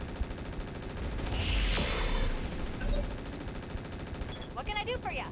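Mech weapons in the video game Roguetech keep firing on turrets as sustained rapid gunfire with a heavy swell midway, followed by short electronic chirps near the end.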